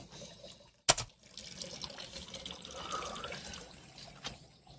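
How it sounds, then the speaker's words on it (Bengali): Water is filled from a tap at home early in the morning: a sharp knock comes first, then a steady stream of running water that carries on close by without speech. "আর এখন ভরবো জল।"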